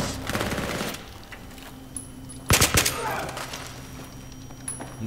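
Battlefield 3 gunfire: rapid automatic bursts at the start, then a louder cluster of heavy shots midway, with sporadic fainter fire over game ambience and a voice.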